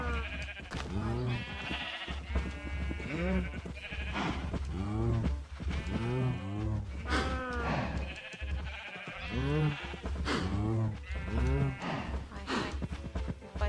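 Cows on a farm in Minecraft low repeatedly in overlapping calls over a steady game background, while a player talks at intervals.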